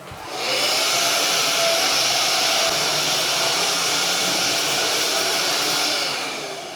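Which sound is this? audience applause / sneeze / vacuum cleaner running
vacuum cleaner running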